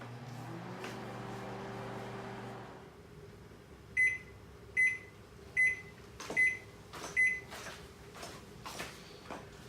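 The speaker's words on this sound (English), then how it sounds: "let's pop her in the microwave and cook her up" A microwave oven heating a frozen Lean Cuisine spaghetti with meatballs meal hums steadily for a few seconds, then five loud, evenly spaced completion beeps ring out close by, followed by fainter clicks and door sounds.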